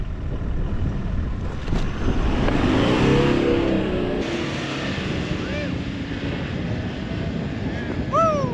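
A jeep engine revs and strains while driving out of deep mud on a sandy coastal track in South Western Australia, with wind buffeting the microphone and brief voices over the steady engine roar.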